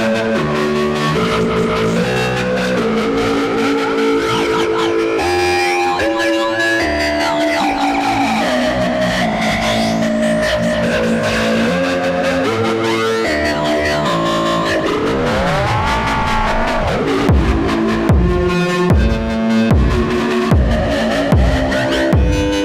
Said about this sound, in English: the outputs of Sofia are sent through the Chaos Devices Oscillator, a stereo frequency shifter, before going to the filters